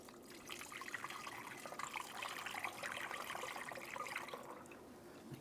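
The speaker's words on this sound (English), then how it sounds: "Now I'm going to take a funnel and add the appropriate coolant." Soft, steady trickle of coolant poured through a funnel into the coolant reservoir of a 1998-2010 Volkswagen Beetle, faint and continuous with gurgling liquid and no talking.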